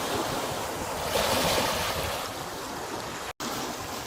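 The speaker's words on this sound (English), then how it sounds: "Look where the waves coming in now." Waves wash in on the Thames foreshore with a loud, continuous rushing surge mixed with wind buffeting the microphone, briefly cut to silence near the end; no one speaks.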